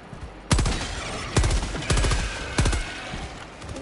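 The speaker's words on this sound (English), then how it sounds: "I have a machine gun!" Machine gun fire in Helldivers 2, heard as four loud, separate bursts of rapid shots with brief pauses between them and no talking.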